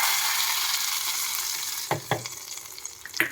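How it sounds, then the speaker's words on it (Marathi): Mustard seeds, cumin and Byadgi chilli tempering in hot oil for chutney, a steady close crackling sizzle punctuated by a few sharp pops and spoon clinks. "तेल चांगलं कडक होऊ द्यायचं. त्यानंतर थोडीशी मोहरी, जिरे आणि बेडगी मिरची टाकून घ्यायची"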